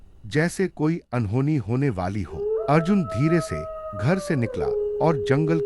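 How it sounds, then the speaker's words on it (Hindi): Drawn-out dog howls in a village at night, rising and holding long wavering tones beneath a voice narrating steadily throughout. "कुत्तों के भौंकने की आवाज गांव में गूंज रही थी।"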